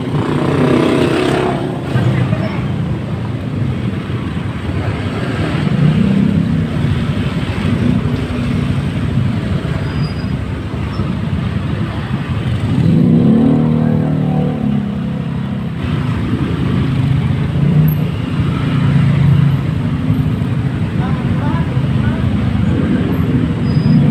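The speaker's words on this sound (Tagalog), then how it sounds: "So na guys, traffic na." Congested road traffic on Misiano Road: a steady roadway rumble of idling and revving cars with engines swelling and easing in waves, close by and continuous.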